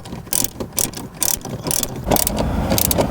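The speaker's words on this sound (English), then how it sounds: "We're now going to tighten these 2 nuts on the front of the head unit" Ratchet wrench tightening two nuts on the front of a 2016-2019 Lexus RX head unit, in close repeated bursts of rapid clicking with brief pauses between strokes.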